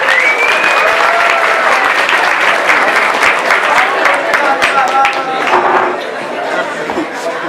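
Loud, dense clapping from the audience welcoming a soil-science biologist at a talk on life on other planets, sustained and close, tapering slightly near the end with some crowd chatter beneath.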